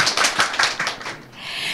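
Several distinct hand claps from a small audience at a talk on financial freedom, a quick uneven burst that fades out after about a second.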